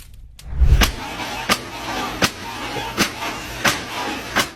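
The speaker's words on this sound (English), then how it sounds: "standing next to the oven while it was slamming the door back and forth" An oven door slams repeatedly in a kitchen, a heavy thump at the start followed by a steady series of sharp metallic bangs about once every three-quarters of a second, close and loud.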